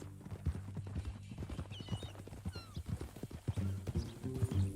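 A horse in the Red Dead Redemption 2 video game: rhythmic clip-clop of hooves throughout, with a neigh and whinny rising over the steps and a low musical or vocal drone underneath.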